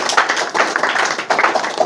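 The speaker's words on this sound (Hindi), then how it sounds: "इनके लिए जोरदार ताली बजाओ" Enthusiastic applause for a student in a classroom, a burst of many hands clapping at once, dense and fairly loud, rising and falling in short waves over its whole length.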